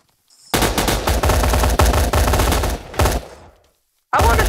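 Video game gunfire in a Navy SEALs themed shooter, sounding as loud, rapid automatic bursts of close shots, a long run broken by short gaps, then silence before another burst starts at the end.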